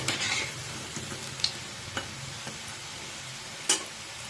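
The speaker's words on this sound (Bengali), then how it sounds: "আস্তে আস্তে হালকা আঁচে লাল লাল করে ভেজে নিতে হবে কোপ্তাগুলোকে" Soybean koftas fry slowly over low heat in hot oil, a constant crackling hiss with a few sharp pops and light clinks from stirring.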